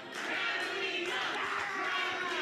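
An indie wrestling crowd at a Full Impact Pro show screams and cheers in one steady, dense roar. It sounds somewhat distant and carries on unbroken, with no clear talk above it.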